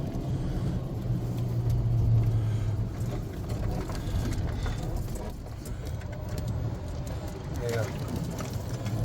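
A golf cart drives up hills along country roads, its motor a steady low rumble with road noise that swells slightly on the climb, heard under a man's speech.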